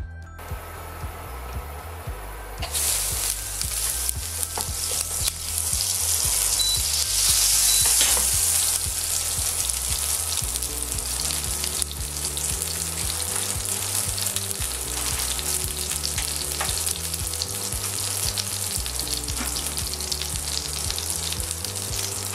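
Floured veal chops frying in browning butter in a pan, a loud, continuous sizzle that swells sharply after a quieter start and then holds steady and close, with faint stirring and a low hum beneath.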